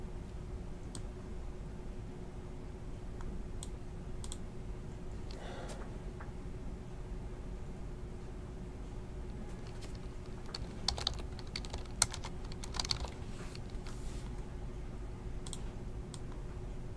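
Computer keyboard typing, a few scattered key clicks and short bursts at moderate level over a steady background hum, with no talking.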